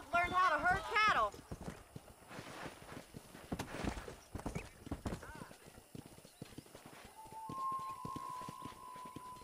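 Horse hooves clip-clop in Red Dead Redemption at a moderate pace on a ranch near a cow pen, steady but partly buried under talk and game ambience, with a voice heard at the start.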